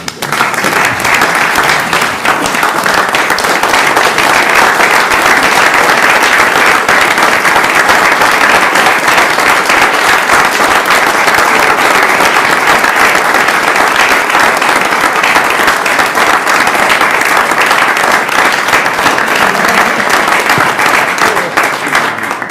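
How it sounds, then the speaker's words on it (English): A large audience at a university system Board of Regents meeting breaks into sustained, loud applause, a dense steady wash of clapping that holds for over twenty seconds with no talk. "could we give Dr. Joanne Boffman one last round of applause"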